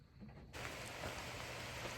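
Rain falling outside starts up suddenly after a quiet half second, then carries on as a soft, steady hiss.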